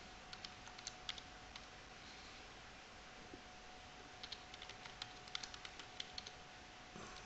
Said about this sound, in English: Terrible typing.